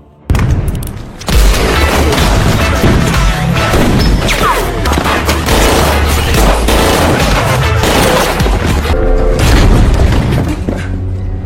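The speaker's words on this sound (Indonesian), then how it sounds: "baku tembak hebat terjadi antara anak buah Alphonse dan orang-orang Jamaika" Heavy gunfire erupts in a film shootout between a mafia boss's men and a Jamaican gang: loud, dense booms and shots follow one another almost without pause for over ten seconds.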